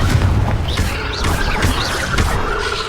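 Explosive spell blasts from the Confringo curse in Hogwarts Legacy, with booming, rumbling bursts over dense game combat noise and whooshing magic effects throughout.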